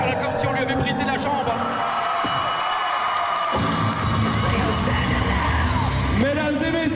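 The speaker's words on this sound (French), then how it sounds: "Les enfants hurlent leur joie" Wrestling event crowd with children screaming and yelling in joy, a loud, continuous wall of cheering and shrieks throughout.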